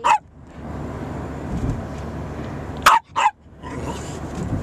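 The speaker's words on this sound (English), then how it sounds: "She is barking" A dog barks a few times inside a moving car, sharp yaps at the start and a quick pair near the end, over a steady low engine rumble.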